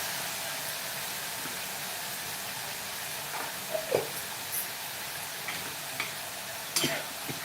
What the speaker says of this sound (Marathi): हा सर्व मसाला चांगला भाजून घ्यायचा आहे